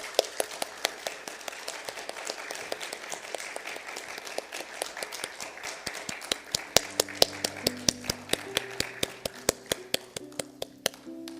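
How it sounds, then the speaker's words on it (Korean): A church congregation applauds at a pastor's ordination service, a dense, steady wash of clapping that turns into rhythmic clapping in time as sustained keyboard music enters partway through. "우리 박수로 하나님께 영광 드리겠습니다"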